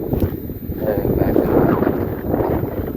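Strong wind roars continuously around the salt fields and buffets the microphone with a loud, low, churning rumble that never lets up.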